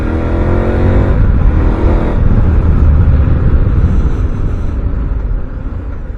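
Engine of a KTM 1190 Adventure motorcycle on its stock exhaust, a loud close continuous rumbling drone that holds steady and eases off slightly toward the end, with no talk.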